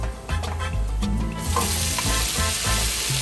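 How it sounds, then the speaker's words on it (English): Shrimp hit hot garlic butter in a wok on high heat, setting off a loud, close sizzle that swells and holds, with a few sharp stirring clinks around it. "So I'm gonna put in my shrimp."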